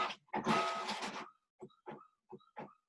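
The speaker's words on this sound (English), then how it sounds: "my little handy dandy printer is printing it off for me" A small home printer prints a voting receipt, a mechanical whir followed by several short clicking and feeding bursts, close and fairly quiet.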